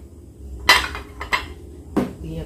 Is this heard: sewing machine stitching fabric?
no